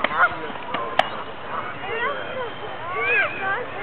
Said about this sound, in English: There's gulls and ducks and geese all over the grass here.